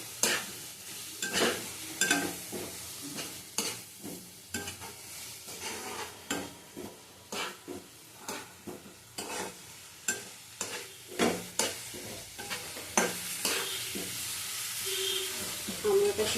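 Kashmiri chilli powder and five dried red chillies frying in oil, a low steady sizzle punctuated by frequent rhythmic scrapes of a spoon stirring against the pan, close and clear.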